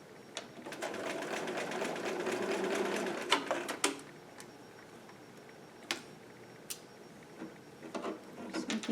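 A sewing machine stitches down the edge of a knitted toy dinosaur's front paw in short runs of rapid, close whirring, broken by pauses and small clicks.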